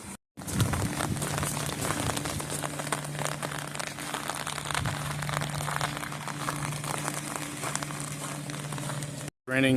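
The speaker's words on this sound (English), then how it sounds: "It's raining" Steady rain patters on the grounds of Schlossberg, a large medieval castle in Germany under construction, a continuous dense hiss with a low hum underneath and no talking.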